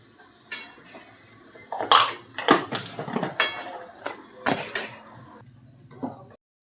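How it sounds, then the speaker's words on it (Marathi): Dishes, pots and pans are washed by hand, giving a series of sharp, close clanks and clatters of metal utensils knocking together, spaced irregularly with short quiet gaps and no talking. "नंतर ना भांडी घासून घेतली आहे"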